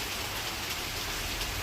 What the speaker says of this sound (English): Came out when it started raining